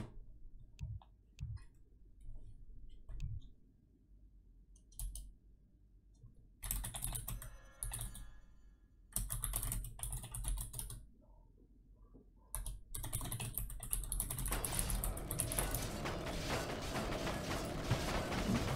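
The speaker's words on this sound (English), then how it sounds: "Oh, I forgot because I was typing." Computer keyboard typing during a Warcraft 3 tower defense match, with bursts of rapid close key clicks and ticks alternating with quieter gaps, steady and fairly soft throughout.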